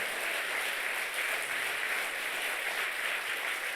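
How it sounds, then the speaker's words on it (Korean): Congregation applause during an evening revival service in a Korean church, a steady dense wash of clapping holding at an even level throughout, no speech. "아니 좀 박수 좀 쳐요."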